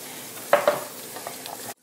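Chicken cooking in a skillet gives a faint, steady sizzle, briefly broken by two sharp clinks, with no talking over it.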